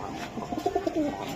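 A male pigeon in a loft of Iranian and Budapest breeds gives one short, soft coo close by, a quick rolling run of throaty notes with no talk over it.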